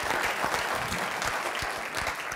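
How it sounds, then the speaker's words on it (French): Studio audience applause on a French TV quiz show, a continuous dense patter of many hands, loud and steady with no speech over it. "Je vous demande de l'applaudir."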